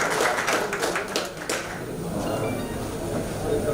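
An audience at a chartered accountants' seminar on big data analytics claps for a guest speaker; loud, close clapping for the first second and a half, then it fades into quieter room noise and murmur.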